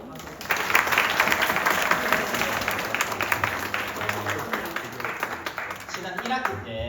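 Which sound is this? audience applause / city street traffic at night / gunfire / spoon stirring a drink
audience applause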